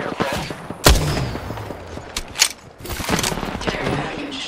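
Rapid bursts of gunfire in Apex Legends battle, with sharp loud shots, machine-gun rattles and an explosive boom, mixed with in-game voice lines.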